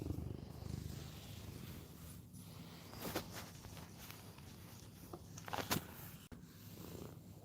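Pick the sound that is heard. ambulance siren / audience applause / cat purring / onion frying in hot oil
cat purring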